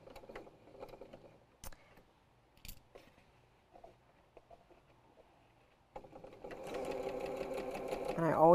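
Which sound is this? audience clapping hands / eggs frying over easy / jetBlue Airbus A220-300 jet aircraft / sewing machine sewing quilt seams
sewing machine sewing quilt seams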